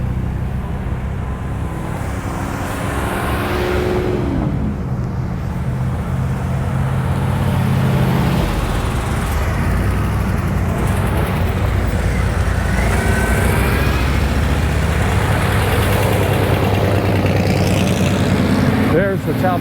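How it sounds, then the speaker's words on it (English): A Mercedes C-111 concept car at the Pebble Beach Tour d'Elegance drives past, its steady engine roar holding loud and close over the whole stretch, with a crowd murmuring in the background. "Here comes the C-111."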